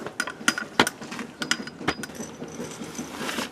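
A ratchet clicks rapidly while loosening 10mm bolts inside a panel of a 1999-2004 Jeep Grand Cherokee, with a few sharp metallic knocks among the close, quiet ticking.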